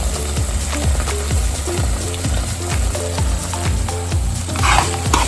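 Onions and tomato paste fry in a pan as red chillies go in, a close, steady sizzle broken by rhythmic scraping strokes of a spoon stirring every half second or so.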